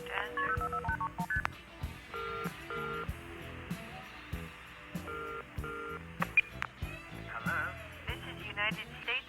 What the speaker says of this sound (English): I don't know what was going on with that phone call